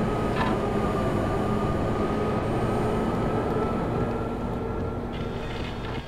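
Subway train in the video game Max Payne, at a metro station: a steady, loud rumbling rolls on continuously with a faint high whine, no voices.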